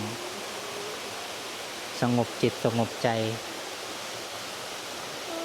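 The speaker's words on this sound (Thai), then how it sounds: "ตรงนี้ก็จะเป็นน้ำตกที่ไหลลงมา" A waterfall at Wat Pha Lat in Chiang Mai pours down into a pool, making a constant, even rushing hiss throughout while a person briefly speaks over it midway.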